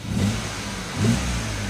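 Car engine with a poor exhaust revving twice, two short throaty surges over a rough, droning idle, close and loud.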